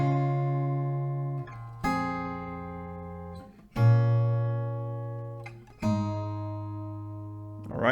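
An acoustic guitar plays the intro, four strummed chords each ringing out and slowly decaying before the next, clear and close with no talk.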